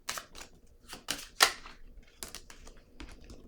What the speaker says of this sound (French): Je vais piger une carte sur sacrifice.